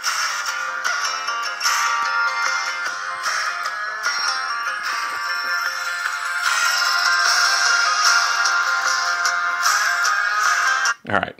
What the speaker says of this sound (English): Let's go ahead and play some copyright-free music here.